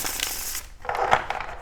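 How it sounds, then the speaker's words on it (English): Tarot cards from a Mermaid Tarot deck being shuffled by hand, a soft riffling flutter in two close bursts separated by a brief pause, with no talking. "Let's go ahead and get a shuffle in here"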